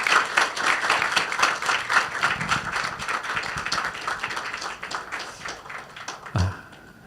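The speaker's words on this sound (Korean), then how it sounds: "우리 환영과 정말 반가움의 박수로 우리 모시겠습니다" Church congregation at an evening prayer meeting applauds to welcome their pastor, a dense, sustained round of clapping from many hands at close range, tapering slightly before ending with a thump.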